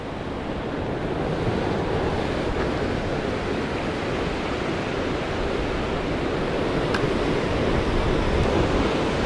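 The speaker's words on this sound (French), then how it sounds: "Oh la taille de la vague." Loud, steady roar of sea waves breaking on the shore during seaside fishing, a continuous dense wash of surf with wind buffeting the microphone throughout.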